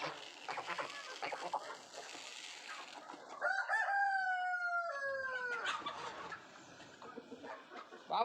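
A village rooster crows once, loud and close, a long drawn-out call rising and falling over quiet outdoor background sounds.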